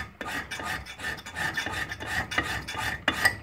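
A file rasps across a steel broadhead, grinding a double bevel down to a single bevel, in a steady run of close, rhythmic strokes with no voices.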